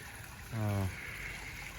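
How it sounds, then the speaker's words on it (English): Soft, steady trickle of water from a small fountain, faint and continuous, with a brief low hum passing through partway. "Got the waterfall going. Not waterfall, but fountain."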